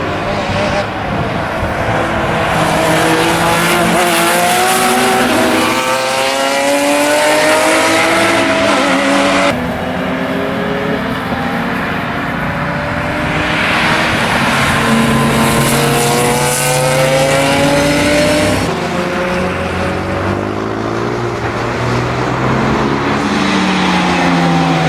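Porsche 911 GT3 Cup race car, water-cooled naturally aspirated 3.6-litre flat-six of 370 horsepower, in Need for Speed: Porsche Unleashed. The engine sounds loud and continuous, revving up through gears in repeated sweeping climbs with occasional tire squeal.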